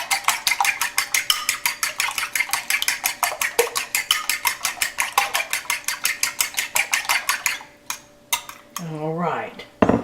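Eggs for a western omelette are beaten with a fork in a bowl, producing a fast, even series of sharp clinking taps that runs for several seconds, then slows and stops as a voice begins speaking.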